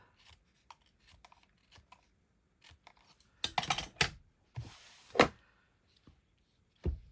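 Scissors snip off surplus card stock on a handmade greeting card, with a series of close, crisp cuts separated by quiet gaps and a louder cluster of snips in the middle.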